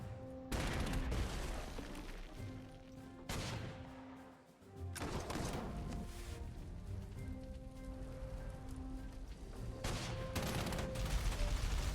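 Tank attack gunfire in the Panzer Corps 2 war game comes as dense, continuous crackling volleys and rumbling bursts, with a short lull in the middle before the barrage swells again.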